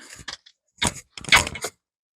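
A socket wrench with a 10 mm socket ratchets on parts of a C4 Picasso 1.6 HDi during an oil and filter change, giving a few short, close bursts of clicking separated by pauses.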